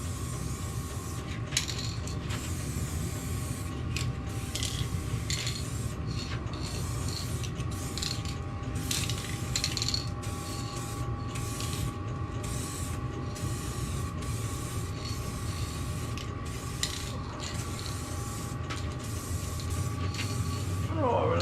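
A spray gun lays down a coat of gloss paint with a continuous, even hiss that runs close and steady throughout, over a faint low background hum.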